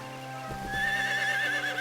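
In the video game Eternal Sonata, a horse whinnies in a long wavering neigh over a steady musical backdrop, preceded by a couple of soft hoof thuds.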